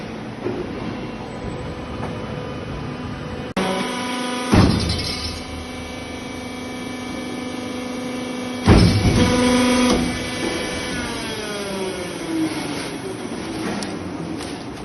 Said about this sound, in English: once the wool gets graded, it then goes to the packer machine, which is down here